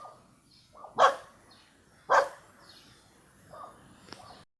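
Two loud dog barks about a second apart, then softer barking and yips further off, with quiet pauses between.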